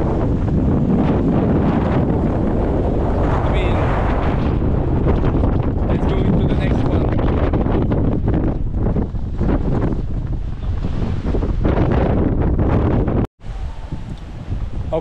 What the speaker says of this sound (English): hopefully there is a little bit less wind so I can do the video